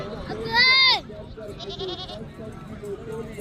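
Goats bleat at a livestock market, one loud wavering bleat up close followed by a fainter, higher cry, with market chatter and voices talking around them.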